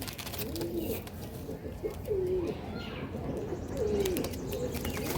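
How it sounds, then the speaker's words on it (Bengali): Malbai pigeons coo in repeated low, warbling phrases, close by and over a steady background hum, with faint chirps and some wing movement. "এই একবার ছেড়ে দিচ্ছি আমি পায়রাগুলো,"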